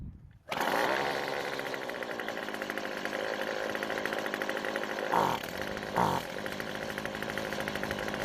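A small two-stroke string trimmer engine runs at a steady, overly high idle, a loud continuous buzzing drone close by, with two brief revs or blips near the end.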